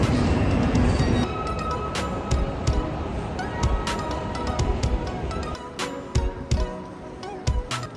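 Busy indoor train station ambience in Colmar, France: a steady rumble of crowds and machinery with scattered clanks and knocks echoing through a large hall.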